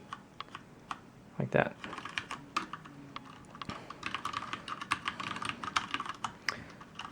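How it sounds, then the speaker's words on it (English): Clicky keystrokes on a Ducky Year of the Dragon limited-edition mechanical keyboard, a rapid, uneven burst of close taps with one heavier clack early on, while a voice speaks briefly. "the lights only turn on when you actuate the keys"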